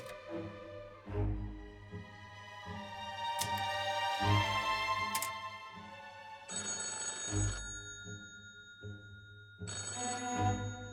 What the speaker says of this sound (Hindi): वेली आसिमोगलू का फोन।